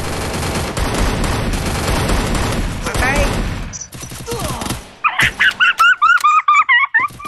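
Dense, rapid gunfire fills a video game firefight for nearly four seconds, loud and continuous, then cuts off as a voice starts talking with brief sharp sounds between the words.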